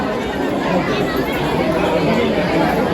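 Dense crowd chatter at the Mhasa Yatra fair in Murbad, Thane district, a steady loud wash of many overlapping voices close around with no single speaker standing out.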